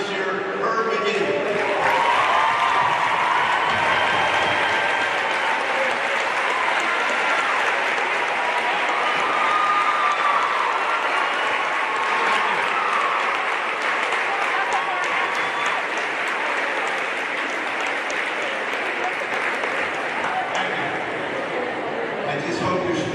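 A large audience applauds and cheers in a sustained, dense ovation for a retiring college basketball coach, the second-winningest in NCAA history, with clapping, whoops and crowd chatter filling the space steadily throughout.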